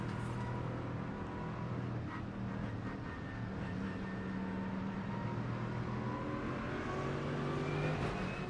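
Hypercars racing at Interlagos in iRacing, a continuous engine drone with rising and falling pitch as cars hold and build revs, several machines blending together at moderate distance.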